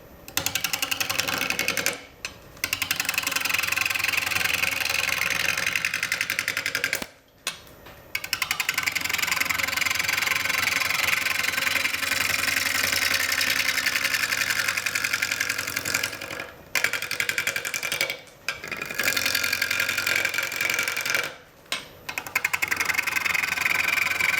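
A wood lathe turns a natural edge hollow form at just over 600 RPM, giving a loud continuous whirring drone broken by several short pauses where the cutting stops.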